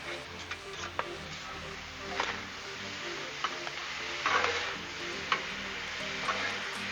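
Seasoned corn fries on a Blackstone griddle with a constant soft sizzle, broken by irregular scrapes and clicks of a spatula stirring it, close and moderately quiet.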